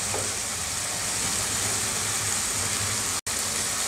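Masala for smoky baingan bharta roasts in a pan with a loud, steady, close sizzle that runs unbroken except for a momentary cut near the end, with no talking.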